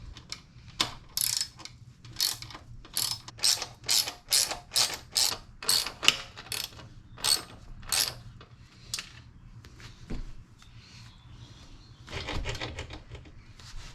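A wrench ratchets on the 12 mm exhaust bolts of a KLX 300 motorcycle during a Yoshimura exhaust install, giving close, crisp bursts of rapid clicking in a rhythmic series, then a pause and a final short burst.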